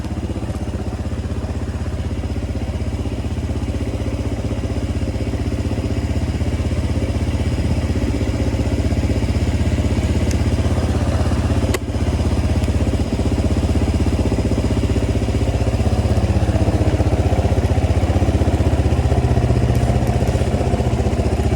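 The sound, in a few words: 1986 Yamaha XT350 motorcycle engine idling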